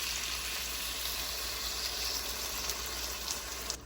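Marinade and juices hissing as they go back into a hot pan with steak for Asian pepper steak, a steady broadband sizzle running the whole time, close and even, with no talking.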